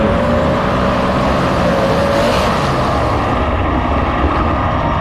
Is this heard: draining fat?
no